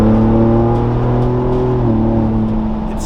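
Ford Bronco soft top with an AWE off-road exhaust revs hard and close, a loud, steady roar with a drop in pitch near the end as the throttle eases.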